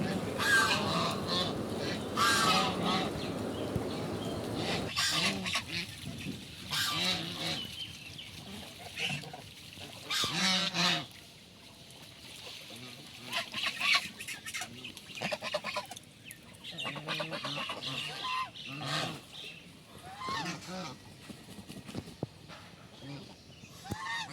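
Geese at a farm with a swimming pool give loud, repeated honks and nasal calls, some overlapping, close by and over a busy outdoor background with a voice talking now and then.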